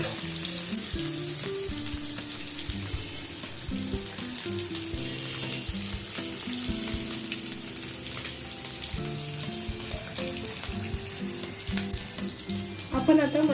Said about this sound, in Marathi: आता हे आपण एक साइड 5 मिनिटं फ्राय करून घेणार आहोत